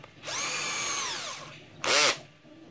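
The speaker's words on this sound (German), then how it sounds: "Diesmal kann ich es sogar mit dem Akkuschrauber Testboden, damit geht das Ganze noch etwas schneller." A cordless screwdriver drives screws into a 3D-printed shredder, two bursts of whining motor, the first long and rising then slowing, the second short and sharp, close and alone.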